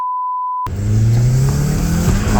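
A car engine roars up through an acceleration after a steady test tone cuts out, close and loud with a rising mid-pitched drone and rough road noise underneath.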